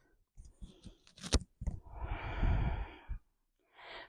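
Slow, deep breathing during a yoga flow: a few soft breaths, then a long, full exhale and a brief final breath. Close and quiet, with no talking.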